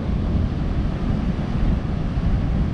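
Steady wind roars across a beach during fishing at high tide, a constant broadband rush buffeting the microphone with no pauses or voices.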